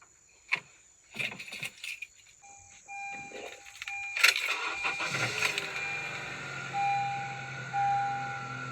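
A Honda car's ignition sequence: key clicks and chime tones, then the engine turns over and settles into a low idle hum, with repeated warning chimes continuing over the running engine.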